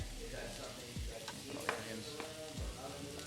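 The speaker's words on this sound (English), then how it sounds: "So you're just gonna go ahead and put the onions and the spinach in the butter." Onions and spinach sizzling in butter for a spinach dip, a soft steady fry with a few spoon scrapes against the pan, faint and close, under light background noise.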